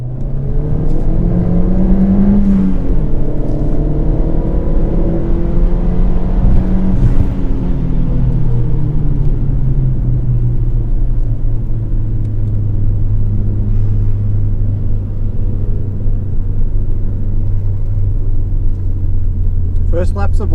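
A Ford Fiesta ST runs its first laps of the Luddenham race circuit in second and third gear. Steady in-car engine drone and road rumble continue throughout, with some rising revs early on and speech over the top.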